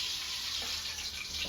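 Tap water runs steadily from a faucet while hotdogs are rinsed under it, a continuous close hiss with slight splashy variations throughout.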